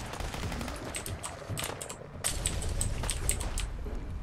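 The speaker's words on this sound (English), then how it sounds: "I need a machine gun" A machine gun in Fallout 4's Far Harbor fires loud, close bursts of rapid shots, with a short pause before a steadier run of fire.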